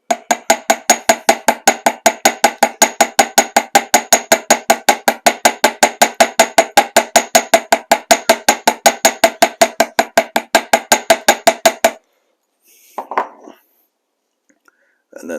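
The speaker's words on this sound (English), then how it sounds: "then I'll use the ball peen to peen this down." A ball peen hammer peens a metal rivet on leather with rapid, evenly spaced sharp taps, dozens in a steady, close rhythm for about twelve seconds before stopping, followed by a few faint handling sounds.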